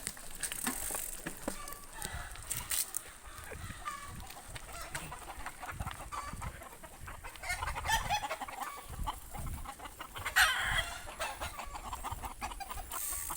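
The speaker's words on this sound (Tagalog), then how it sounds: "Daghan kay manok guys." Chickens cluck and squawk nearby amid a busy outdoor background on a trail, with people chatting intermittently.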